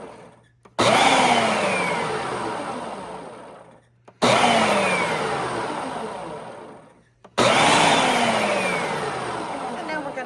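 A blender whirs through kimchi paste in three loud bursts, each starting abruptly, roaring with a rising motor pitch, then slowing and fading before the next run.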